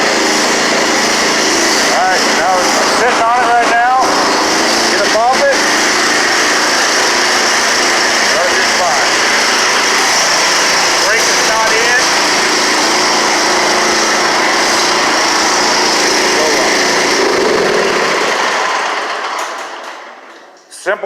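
A Cub Cadet riding mower's small engine runs at a high, steady buzz, close and loud, with a few clicks and rattles early on before it shuts off and winds down near the end.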